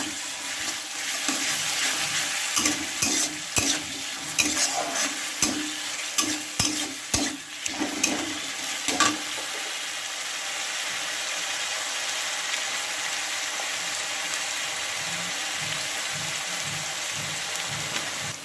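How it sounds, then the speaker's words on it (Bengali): Onion and garlic frying in a pan and being stirred, loud sizzling with rhythmic scraping stirs in the first half, then a steady hiss of frying continuing on its own. "পেঁয়াজ রসুন ভাজা ভাজা হয়ে গেছে"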